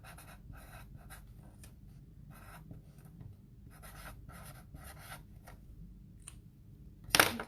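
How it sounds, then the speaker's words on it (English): Close, scratchy strokes of a pen writing on a card, coming in short bursts with brief pauses, ending in a louder rustle. "So we're just going to write Happy"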